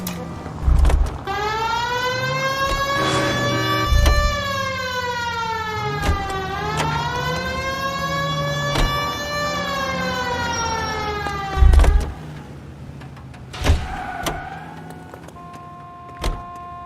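A police car siren in the video game L.A. Noire wails in long rising and falling sweeps while the car drives, loud and close, with occasional heavy thumps and knocks breaking through.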